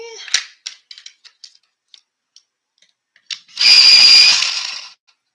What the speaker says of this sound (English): Hopefully the sound of the sharpener doesn't annoy you guys.